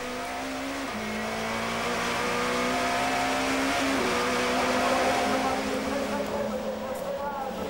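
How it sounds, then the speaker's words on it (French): A Procar race car engine pulling hard at Zolder circuit in a 1994 Belgian championship final, its pitch shifting up through gears as it accelerates, with a commentator's voice running over it. "Marc accélère, Thierry lève le pied"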